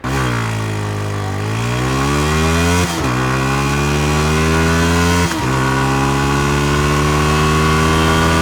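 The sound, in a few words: Yamaha R15 V3 motorcycle engine revving past 7000 RPM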